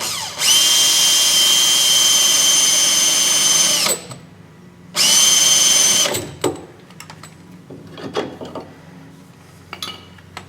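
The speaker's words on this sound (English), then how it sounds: "drill out this mounting hole." A drill bores a mounting hole under a 1968 Chrysler 300, two loud whining bursts with a short pause between, then scattered clanks and tool handling nearby.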